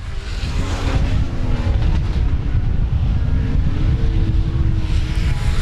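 Race cars roar past at South Texas Speedway, a loud, continuous engine drone that swells and fades as cars pass on the track, heard alone without talk.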